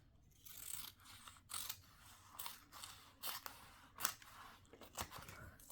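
Scissors snipping through a sheet of paper during a home project, several short crisp cuts spaced irregularly, close and fairly quiet.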